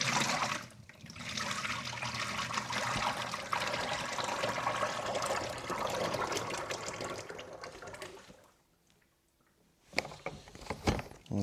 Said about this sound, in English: I'm now going to pour out some of the manky water